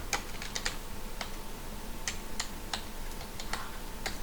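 Steady keyboard typing on a computer, a run of light, scattered key clicks in irregular bursts over a faint background hum, with no voices.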